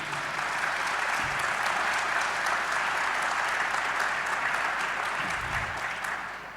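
An audience applauds the hosts who provided the venue at the opening of a day-long event, a steady, dense wash of clapping that holds for several seconds before tapering off at the end.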